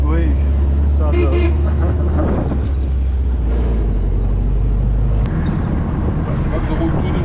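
An old 1942 Willys Jeep rolls slowly along a small country lane, its engine giving a steady, loud low rumble throughout, with people talking over it inside the vehicle.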